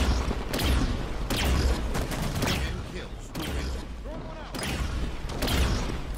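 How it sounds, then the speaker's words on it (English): Rapid bursts of weapon fire from a Halo 5 Big Team Battle match, repeated volleys with mechanical clatter and booms spread across the clip, loud and continuous over game ambience. "I am just randomly shooting."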